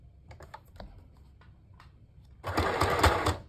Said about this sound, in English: So I'm gonna sew this together and this together because we're gonna make this into like a little pocket.